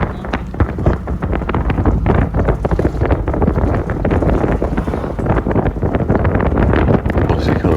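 Strong wind buffets a car window during a drive past water in Pakistan, a loud, continuous rushing roar with gusty fluctuations filling the whole stretch.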